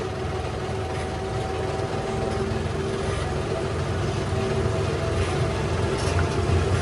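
A tractor engine runs continuously on a slope, a loud, steady low rumble that drones on unchanged throughout, with no voices.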